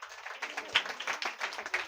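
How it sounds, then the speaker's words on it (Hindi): A church congregation claps along during a Hindi-language sermon, with quick, fairly even hand claps, moderately loud and close, and nobody speaking over them. "हालेलुया थोड़ा ताली बजाए सब लोग।"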